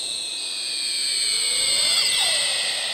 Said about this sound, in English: So it's just this electronic swoosh